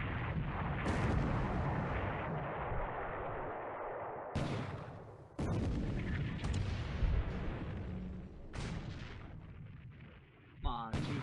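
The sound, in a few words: naval gunfire in a WWII naval strategy video game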